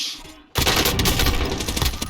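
Call of Duty Warzone gunfire starts suddenly after a short lull: rapid automatic bursts, loud and dense, fill the rest of the moment with no voices over them.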